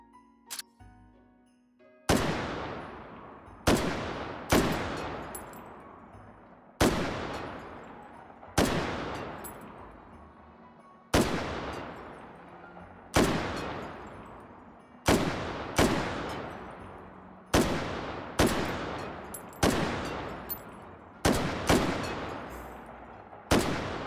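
Gunshots from a weapon in the VR game Hot Dogs, Horseshoes & Hand Grenades during a Christmas Meatmas event, a dozen or so sharp single reports fired at irregular intervals, each with a ringing decay tail, loud and close with no talking.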